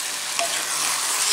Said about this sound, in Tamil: இப்போ அது கூட கறி, டர்னிப், உப்பு எல்லாம் சேர்த்து ஒரு 1 நிமிஷம் வதக்கிக்கலாம்.